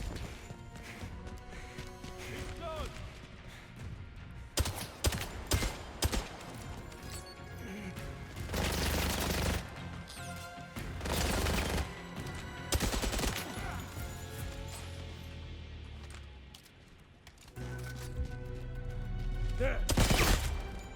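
Bursts of automatic gunfire and heavy impacts fill a firefight in the video game 007 First Light, loud and repeated in clusters, with shouted voices between the volleys.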